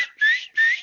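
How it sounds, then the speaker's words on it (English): A person whistles two sustained rising notes, each about a third of a second, close and clear with a short pause between them. "There's the man with the whistle."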